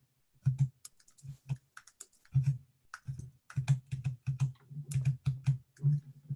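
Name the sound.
navigating with the tab key on a computer keyboard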